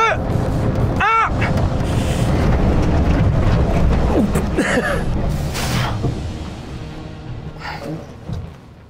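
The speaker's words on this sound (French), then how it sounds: "Attention, je vais freiner dans 3, 2," A car fitted with bus wheels braking hard from 100 km/h gives a loud, steady roar of road and wind noise that fades as it slows. A sharp screech cuts in early, and a faint voice is heard near the end.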